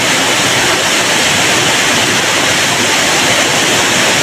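A waterfall pours steadily into pools at Rizal Falls, a dense, even rush of falling water that holds constant and loud throughout, with no voices over it.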